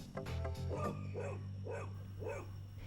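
A dog gives a short run of a few barks and yips at moderate distance over a steady low hum, with no talk.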